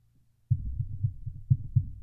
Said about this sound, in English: Bumping the desk.